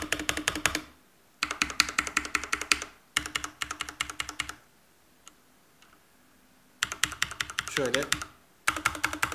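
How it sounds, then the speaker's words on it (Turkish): Rapid clacking of an Asus ROG Claymore Core RGB mechanical keyboard with linear switches comes in several bursts of fast typing separated by pauses, close up, with a brief word spoken between. "Lineer yapıda bir klavye ve sesi de oldukça çıkıyor."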